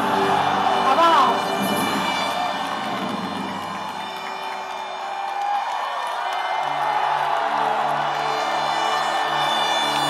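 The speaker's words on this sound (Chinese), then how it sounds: "那我们就大声的为台湾欢呼一次" A large crowd at a 2016 presidential election victory rally cheers for Taiwan, with a loud sustained roar of voices and shouts that eases slightly midway, then swells again.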